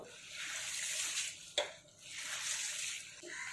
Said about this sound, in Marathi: 3 ते 4 पाण्याने हे गहू स्वच्छ धुवून घेऊयात अगोदर